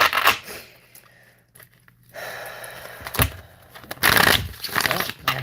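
A tarot deck is shuffled by hand, papery riffles and slides in uneven bursts with brief pauses, close and fairly loud.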